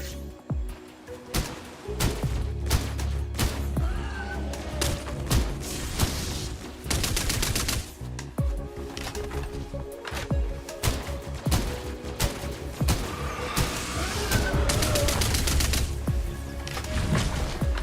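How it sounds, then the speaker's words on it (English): Rapid bursts of gunfire from a weapon in the top-down action game Cygnus Enterprises, repeated volleys and sharp shots in quick succession with brief pauses, mixed with impacts and booms, loud and continuous. "This gun is fantastic at clearing out groups and also single target DPS, obviously."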